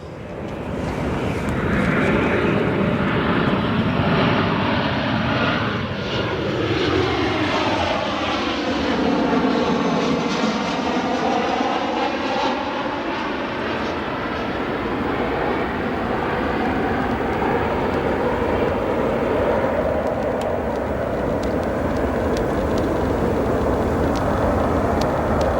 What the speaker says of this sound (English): On to our next arrival. American Airlines, Boeing 737.